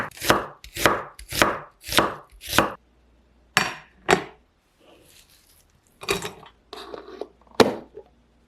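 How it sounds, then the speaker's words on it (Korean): A knife slices a halved onion thinly on a cutting board. Crisp, evenly spaced cuts come in a quick run of about five, then a few scattered strokes follow after short pauses, close and clear. "양파는 반으로 자른 다음 가늘게 썰어주세요."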